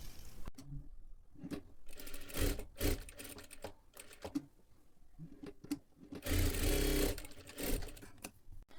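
Short bursts of a domestic sewing machine stitching along a sleeve lining, stopping and starting several times with quiet gaps between runs, close and moderately loud, with no voices.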